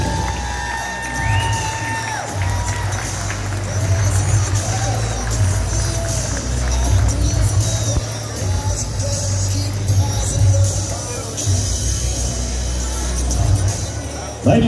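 A large crowd cheers and applauds loudly and continuously for a world champion at a rodeo average buckle presentation, with shouts and voices mixed into the sustained roar.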